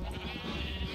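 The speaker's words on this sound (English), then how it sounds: "let's start off by getting us a few sheep here" A Minecraft sheep bleats in one short, wavering call, close and clear, with no talking over it.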